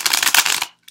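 A Rider-Waite tarot deck is riffle-shuffled up close in a loud, rapid flutter of papery slaps lasting under a second, then stopping abruptly, followed by one soft tap.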